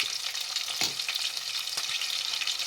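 Green chillies and ginger garlic paste sizzle in hot oil in a pan, a bright steady hiss with a couple of soft scraping stirs, close and without voices.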